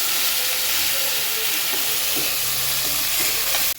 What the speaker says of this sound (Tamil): ஒரு தக்காளி கட் பண்ணி வச்சுருக்கேன், அதையும் போட்டுக்கலாம். போட்டு நல்லா வதக்கிக்குவோம்.